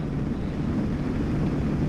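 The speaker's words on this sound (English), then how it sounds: "It is windy." Steady wind buffeting a microphone, a continuous low rumbling roar that never lets up.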